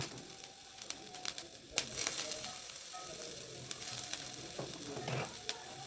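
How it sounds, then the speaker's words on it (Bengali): Chopped garlic, ginger and onion sizzle steadily in hot oil in a pan, a continuous crackling fry with a louder burst about two seconds in and occasional stirring clicks, no talking. "এবারে এর মধ্যে আমি একটুখানি রসুন কুচো দেব, একটু আদা কুচো দেব, আর পেঁয়াজ কুচো দেব।"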